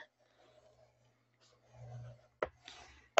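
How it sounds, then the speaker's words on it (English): A scoring tool drawn across paper while making a scrapbook, a few faint scratchy strokes with two sharper clicks near the end in an otherwise quiet room. "I'm gonna score it first just so that my brain can wrap around it"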